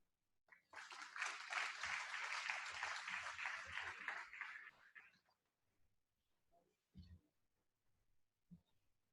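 An audience breaks into steady applause for about four seconds to welcome a speaker at an agricultural talk on blueberry and berry markets, then fades to a few scattered claps and quiet room noise.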